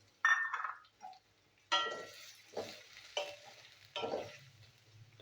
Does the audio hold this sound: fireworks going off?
no